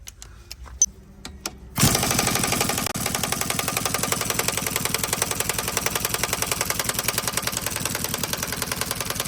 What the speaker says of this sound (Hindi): क्रैंक का बोल्ट खोलिए फास्ट।